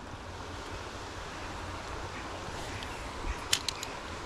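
Shallow river rapids rush steadily around a wading angler's shins, a broad continuous wash of moving water with a few small splashes or clicks near the end, no talking.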